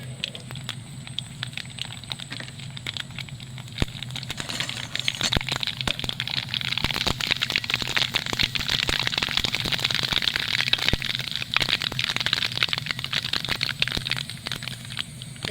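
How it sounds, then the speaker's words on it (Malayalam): Mustard and fenugreek seeds popping and spluttering in hot oil in a pan, a dense close crackle of sharp pops that builds and keeps going steadily throughout. "അപ്പോൾ കടുകും ഉലുവയും കൂടി ഒന്ന് പൊട്ടട്ടെ"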